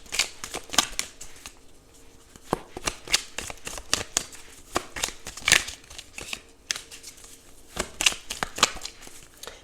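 Tarot cards being shuffled close up, a series of crisp riffling and slapping bursts at irregular intervals, fairly quiet with no talk over them.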